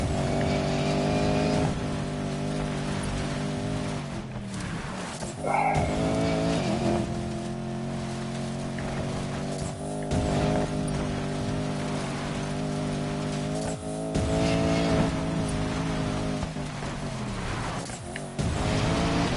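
A Porsche slides through long off-road drifts in Need for Speed Payback, its engine droning with steady harmonics under continuous gravel and dirt spray, the pitch dipping and surging as the car swings through a desert section.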